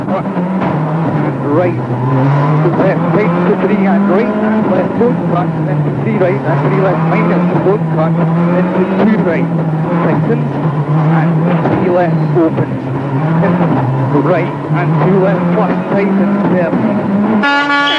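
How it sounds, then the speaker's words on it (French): Colin McRae's rally car at speed through the Aiglun gorges during the 2003 Monte Carlo Rally, its engine droning loudly and rising and falling in pitch throughout while a commentator talks over it. "Observez maintenant le rythme de Colin McRae dans les fameuses clues d'Aiglun"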